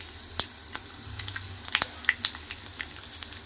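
Peanuts roasting in a pan for bisibele bath make a soft, even sizzle, broken by small scattered crackles and light ticks and scrapes as they are stirred close by.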